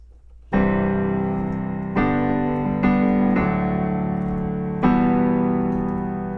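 Four sustained piano chords, the main loop of a song, struck one after another, each ringing out and fading slowly, played alone at a calm, even pace.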